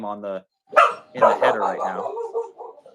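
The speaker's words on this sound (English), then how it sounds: "That's my dog." A pet dog barks nearby in a couple of bursts, overlapping with someone talking at a crochet session about dinosaurs, her speech running before and through the barking.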